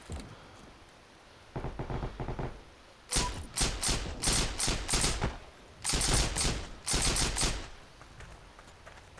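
Automatic gunfire in the shooter game Heroes & Generals rattles out in several separate bursts, loud and close, with short quiet gaps between the volleys.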